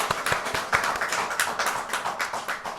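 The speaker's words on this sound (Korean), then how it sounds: "우리 한번 축하 박수합니다." A church congregation clapping in celebration during a Sunday morning worship service, irregular claps from many hands, moderately close and lively, with no talk over them.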